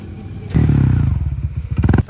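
A Honda motorcycle engine fitted with a CNC brake arm starts with a thump and settles into a close, loud idle with mechanical clatter, then gets a short rev near the end.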